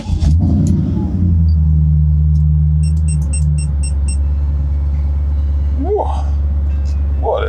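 A 1986 BMW 316 with an M10 engine runs, its low idle rumble steady and close, with faint high clicking and a couple of brief rising tones toward the end.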